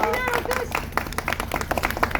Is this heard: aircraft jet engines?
no